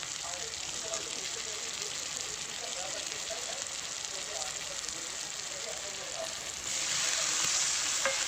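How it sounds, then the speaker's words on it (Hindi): Jhungar and potato curry with gravy sizzles in a pan, a steady, fairly quiet frying hiss with small crackles throughout that grows noticeably louder and brighter near the end. "यहाँ पर मैं झुनगर आलू की सब्ज़ी बना रही हूँ,"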